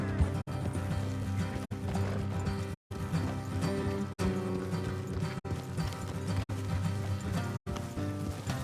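Steady horse hooves clip-clopping at a walking pace in Red Dead Redemption 2, layered with continuous music and ambient game sound, with a few brief dropouts.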